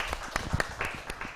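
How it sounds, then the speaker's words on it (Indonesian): A classroom of students gives brief applause for a classmate, a quick patter of several hands clapping that comes in short uneven bursts at moderate volume. "tepuk tangan untuk Elsa"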